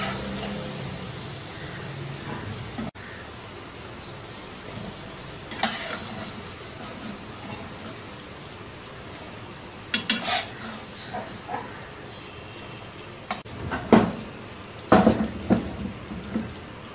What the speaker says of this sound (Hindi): इसको भी हम ऐसे ही कुक होती हुई कढ़ी में डाल देंगे